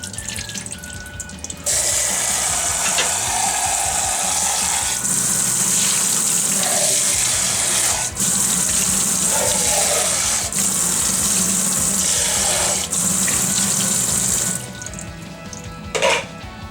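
Water runs from a kitchen tap to rinse canned beans, a loud steady stream splashing into a sink that starts abruptly, keeps going for many seconds with small interruptions, then shuts off.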